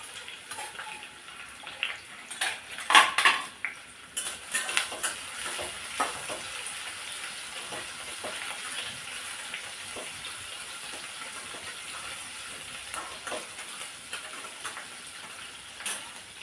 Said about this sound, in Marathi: मग टाकून घ्यायचं आहे थोडासा लसूण आणि लसणासोबतच टाकायच्या आहेत मिरच्या